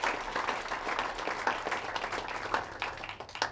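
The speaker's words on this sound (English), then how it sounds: "So really, also a big round of applause to them and for the work they do." Audience applause after a nature conservation talk at a Nature on Tap event, a steady wash of clapping from a crowd that holds for several seconds without voices.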